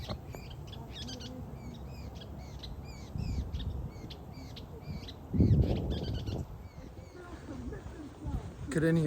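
Several short, repeated chirping bird calls sound through a busy outdoor scene, with louder rustling and low noise bursts in between and a voice talking at times.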